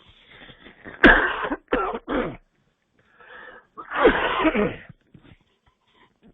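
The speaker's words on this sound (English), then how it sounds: "I'm sorry for the cough." A burst of harsh, close coughing: a sharp hack and a couple of follow-ups, a pause, then another rough coughing fit that trails off.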